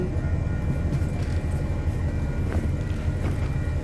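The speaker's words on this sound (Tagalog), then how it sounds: "may train po siyang dadaan" A train rolls past near a BART station, a steady low rumbling roar with faint squeals, continuous and fairly close throughout.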